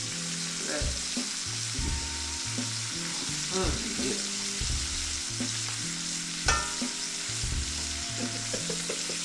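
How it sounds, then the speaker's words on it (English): Meat sears in a hot pan with a loud, crisp crackling sizzle, punctuated by rhythmic scraping and stirring knocks; one short spoken word. "That's how that sear needs to sound. A little crisp."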